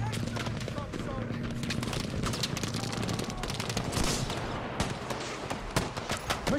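Machine gun fire rattles in Battlefield V multiplayer as a dense, continuous barrage of rapid shots, with battle noise layered over it.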